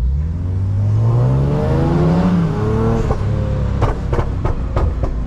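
A car drives up close and revs loudly, its engine tone rising and sliding before settling, followed by a series of sharp clicking ticks near the end.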